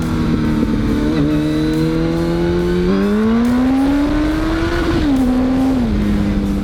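Honda Hornet 900 motorcycle with a twin-pipe exhaust revving hard in first gear, loud and close, the engine note rising in steady harmonic sweeps, dipping briefly, then climbing again before easing off.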